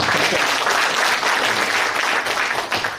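An audience at a regional education development forum applauds steadily and loudly, a dense wash of clapping that lasts throughout and tapers slightly at the end.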